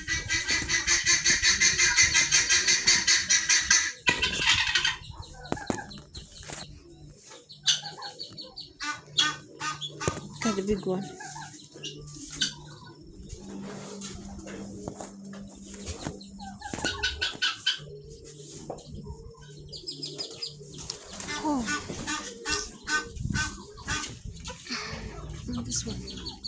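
Ornamental chickens and doves cluck, chirp and coo in a bird pen, with bursts of calling and quieter stretches, while someone talks intermittently.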